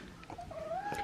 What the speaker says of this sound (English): this is the cat of the guest house